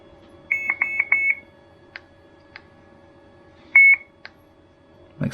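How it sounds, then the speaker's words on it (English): A Drift Ghost 4K+ action camera gives loud, high electronic beeps: a quick run of three, then a single one, with faint ticks between them in a quiet room. "Make some pretty loud beeps, which will be nice."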